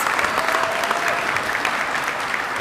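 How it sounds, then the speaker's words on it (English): A crowd claps steadily throughout, a dense, even burst of applause from an audience indoors at a college commencement ceremony. "Please give them a round of applause."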